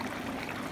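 A cleaned easy pod aquarium filter fizzes as air bubbles up through its media and water, a steady close hissing gurgle with no voices.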